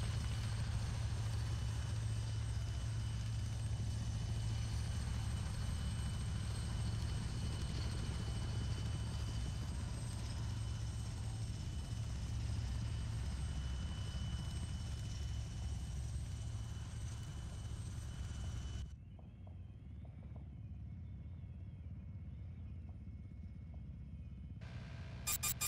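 A helicopter in the video game NAK Ops drones steadily with a constant low rotor hum for most of the stretch, then drops away abruptly to near silence.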